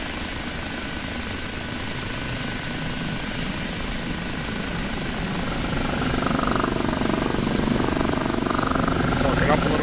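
OH-58D Kiowa helicopter in DCS World accelerating low over a ramp, a steady dense rotor and turbine roar that swells slightly louder toward the end, with someone talking over it.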